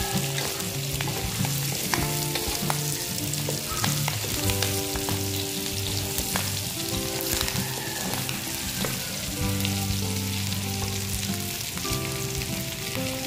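Pork belly frying and browning in its own rendered fat in a pan, a steady loud sizzle and crackle with stirring, no voices.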